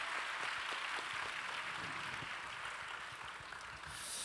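Hall-wide applause at a church young adults' gathering sounds as a steady, even wash of clapping from many people, at medium loudness, with no clear break through the short stretch.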